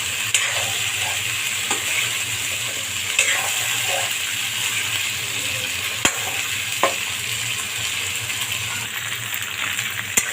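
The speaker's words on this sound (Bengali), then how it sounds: "ফ্রাই করা হয়ে যাচ্ছে, এখন তুলে নেব" Cauliflower florets frying in a pan make a continuous sizzle and hiss, while occasional sharp taps and scrapes of a utensil against the pan stand out, and no one speaks.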